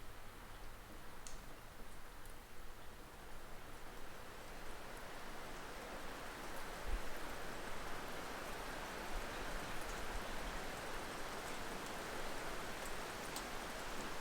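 Rain falls steadily on a rainy day, a soft, even hiss of countless drops with occasional louder ticks and taps, continuous and fairly quiet throughout with no voices.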